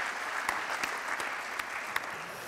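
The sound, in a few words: audience applauding a guest coming on stage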